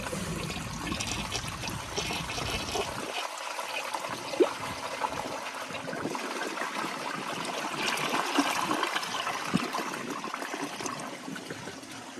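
A 1983 Kohler Wellworth toilet with a water guard flushes a microfiber washcloth: a steady rushing, gurgling swirl of water that runs the full twelve seconds, swelling slightly near the end with a few sharp clunks and drips.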